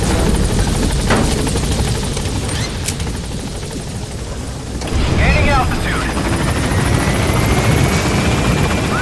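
The Pequod helicopter in Metal Gear Solid V, a loud, close, continuous rotor roar and whine that swells midway, with radio voices speaking over it.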